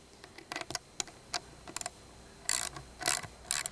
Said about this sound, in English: a long eye bolt and a nut, which we will now tighten down